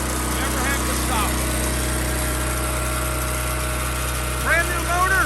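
A Winco HPS12000HEB tri fuel generator with a brand new motor runs at a steady idle, a constant low hum with higher whine that continues throughout while someone talks over it in short bursts.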